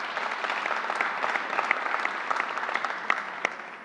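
Audience applause at a COVID vaccination briefing, a moderate round of clapping from a crowd with individual sharper claps standing out, steady and somewhat distant.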